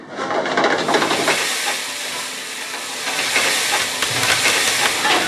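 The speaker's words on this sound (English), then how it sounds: "Just making some onions and mushrooms for the steaks" Onions and mushrooms cooking for steaks give a loud, continuous close sizzle and hiss that starts abruptly and holds steady to the end, no talking.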